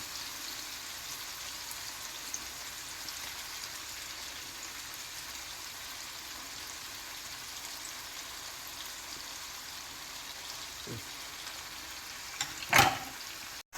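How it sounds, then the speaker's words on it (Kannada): Onions frying for birista for a fish biryani give off a faint, even, rain-like sizzle throughout, with a brief clatter near the end. "ನೀರುಳ್ಳಿ ಫ್ರೈ ಮಾಡ್ತೇನೆ."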